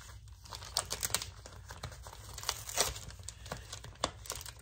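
Scissors cut through an old sticker sheet, giving a steady crinkling, papery crunch close up with small irregular snips and rustles throughout, no speech.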